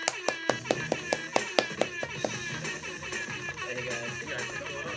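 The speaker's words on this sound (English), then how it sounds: "Everyone, make a big applause for the second project showcase." A small online audience applauds a project showcase: a string of sharp, distinct claps up front, then thinner scattered clapping with light laughter and chatter.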